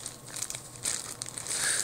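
A plastic bag crinkles and crunches in soft, irregular bursts as it is handled up close, quiet and with no one speaking.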